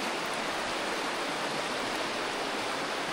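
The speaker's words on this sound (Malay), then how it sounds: "Hujan lebat ni." Heavy rain pours outside a campervan at Teratak Simpul Baling, a constant, dense hiss of falling water with no break or rhythm, steady and fairly loud throughout.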